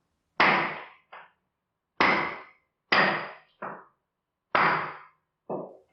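Hammer blows in a home, sounding as three pairs of loud, sharp metallic strikes, each heavy clang followed by a lighter one with short ringing decay, separated by silence and heard alone without talk.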